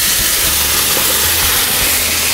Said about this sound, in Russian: И кладем наши нарезанные помидорки.